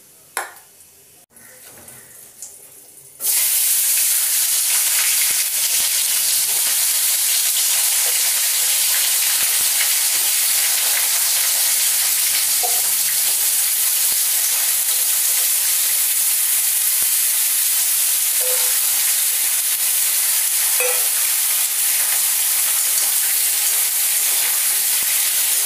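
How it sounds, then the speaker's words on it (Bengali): Chopped beans, potato, pumpkin and radish hit hot oil with panch phoron in a pan, bursting into a loud, sustained frying hiss after a few quiet seconds, steady and close for the rest. "পাঁচ ফোড়ন দিলাম, দিয়ে এই কেটে রাখা সবজিগুলো, শিম আছে, আলু আছে, কুমড়ো আছে"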